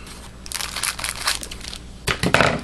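A foil pack of 2013-14 Prizm hockey cards is cut and torn open up close, producing crinkling and crumpling bursts with a louder crinkle toward the end.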